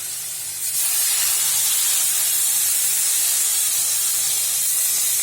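Water poured into a pan of small fish frying for a Bengali-style dish, a loud sudden rush of hissing sizzle that swells and then holds steady and close, with no talking.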